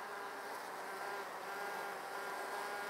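Honeybees swarm around a hive's new section and a feeder during an inspection, their dense, steady buzzing close and continuous throughout with no voices.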